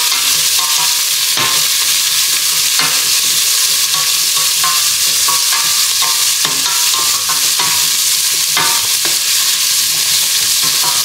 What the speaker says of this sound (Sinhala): කරවල ටික දාගන්නවා.